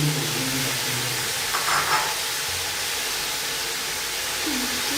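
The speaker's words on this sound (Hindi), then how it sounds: "अब हम इसमें प्याज डाल रही हूँ।" Chopped onions go into beef already frying in a pot for kachnar gosht. A steady, fairly loud sizzle and hiss with faint stirring continues throughout.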